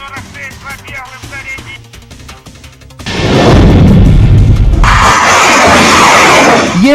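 Artillery fire and explosions from the war in Ukraine: a quieter stretch with background music gives way to loud, sustained booming rumbles and blasts that fill the rest of the clip.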